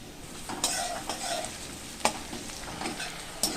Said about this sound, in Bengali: পেঁয়াজগুলোকে আমি ভেজে নিয়েছি